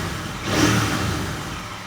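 A Royal Enfield Interceptor 650 motorcycle fitted with a Pro Racing fuel module gives a single short rev that swells and then settles back toward idle, heard close and alone.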